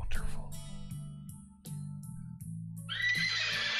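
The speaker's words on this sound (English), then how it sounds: "There go the horses." Horses neighing, a loud whinny rising at the end over steady rhythmic electronic music, with a louder sound burst near the close.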